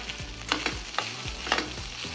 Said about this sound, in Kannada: ಸಾಲ್ಟ್ ಹಾಕಿ ಇದನ್ನು ನೀಟಾಗಿ ಸಾಟೆ ಮಾಡಿ